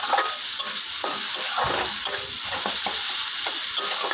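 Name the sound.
spice paste with turmeric and chili powder being fried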